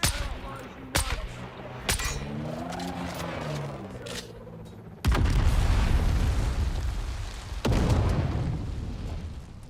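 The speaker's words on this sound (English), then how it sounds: "Grenade" A grenade explodes in Dune Awakening with a heavy, rumbling boom, followed by a second blast, after a few sharp thuds and a warbling tone.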